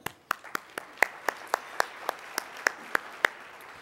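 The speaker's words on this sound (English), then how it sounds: "You can break in right now and clap for them if you want." Claps ring out one at a time at a steady, slow rhythm at a charity luncheon, about a dozen sharp, fairly close claps with a faint murmur of the room between them.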